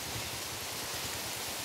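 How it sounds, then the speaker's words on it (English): Steady rain falling outdoors after a sudden change from sunshine, a dense, even hiss that stays constant throughout with no voices. "And now here it is raining."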